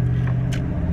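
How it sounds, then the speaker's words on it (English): A plow truck driving on a winter road, with a steady low engine rumble and road drone throughout, loud and close, with a couple of faint higher rattles. "me right now in my plow truck going to recover another vehicle"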